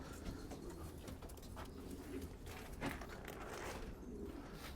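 Flight pigeons belonging to Beşir, a Syrian fancier, coo steadily at close range, with soft repeated calls over a constant background hum and no talk.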